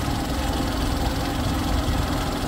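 A motorbike engine drones steadily while riding a rough, broken rural road in Nepal, a loud continuous low rumble with vibration and no speech.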